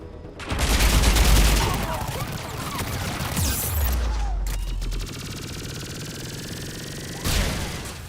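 Rapid bursts of weapon fire in the sci-fi shooter Mass Effect 3 crack loudly at first, followed by lighter, scattered shots and a final short burst near the end.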